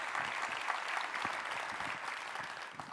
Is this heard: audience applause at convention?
yes